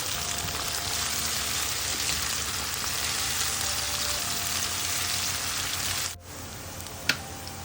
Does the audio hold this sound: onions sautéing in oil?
yes